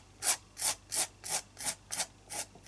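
Texture paste being smoothed across an art journal page, heard as seven rhythmic rubbing strokes spaced about evenly, each a soft close scrape, with no talking.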